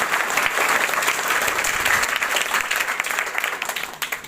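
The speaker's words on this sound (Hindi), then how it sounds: "हम चाहते हैं एक बार इनका तालियों से स्वागत कर दीजिए" An audience at a free competition event bursts into warm, sustained applause to welcome a teacher, a dense wash of clapping from many hands that holds steady and then gradually thins out near the end.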